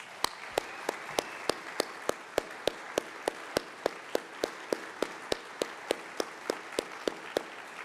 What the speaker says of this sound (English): Let's give these churches a round of applause.